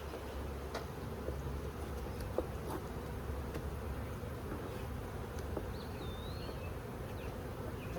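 Thousands of honeybees in a hive box during a beekeeping trap-out drone in a dense, continuous buzz, close and steady, with occasional faint clicks of handling.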